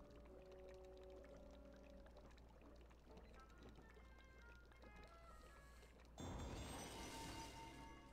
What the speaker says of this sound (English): select the bottle and pour until the potion turns this color